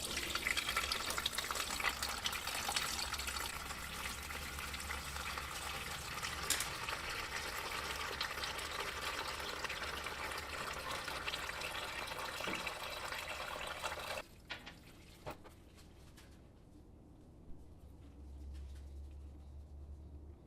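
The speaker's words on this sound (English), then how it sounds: "So let's drain this oil, see how nasty it is, see how much it is." Water-contaminated oil drains steadily from a car engine into a pan, a continuous splashing trickle that cuts off abruptly, then quieter dripping.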